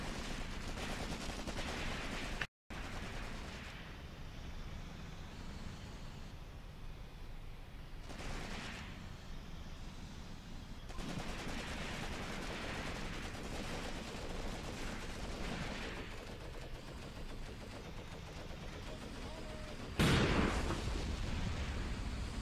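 Skirmish in the Graviteam Tactics war game, with rapid rifle and machine-gun fire crackling in bursts near and far, heavier booms scattered through, and a loud blast close to the end.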